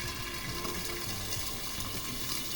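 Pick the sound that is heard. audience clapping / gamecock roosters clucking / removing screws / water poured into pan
water poured into pan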